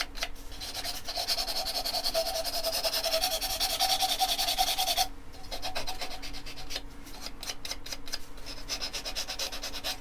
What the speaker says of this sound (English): You can take as much time as you want with the sanding of your petal